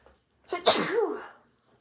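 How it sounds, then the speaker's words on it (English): A single sharp sneeze, preceded by a quick intake of breath and trailing off into a brief voiced tail, close and otherwise quiet. "I have to sneeze."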